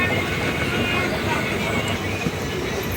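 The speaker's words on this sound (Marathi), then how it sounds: "रेल्वेमध्ये बसलेलो आहे आम्ही." A passenger train travels near Sambhajinagar, heard from inside the carriage as a constant loud rumble and rattle, with muffled voices under the steady noise.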